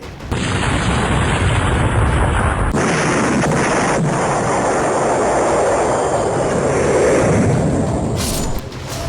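Israeli air strike destroying a building in Syria, heard as a loud, sustained roaring blast with a deep rumble that drops away after a few seconds, leaving a continuous heavy crackling roar.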